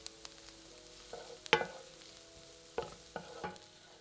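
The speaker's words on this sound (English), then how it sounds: "Stir it together and cook for a further minute." Onion and minced garlic cooking in a pan, a quiet sizzle under a few sharp scrapes and clinks as a utensil stirs them together, close up with no voices.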